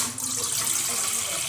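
About two cups of water poured into a heavy-bottomed kadai for cooking aval sakkarai pongal; a loud, steady, close splashing stream that runs for the whole clip with no talking.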